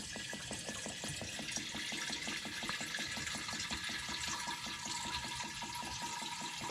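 Water streaming steadily from a hose nozzle with a built-in filter, a continuous close splashing rush with a fine regular flutter and no voices.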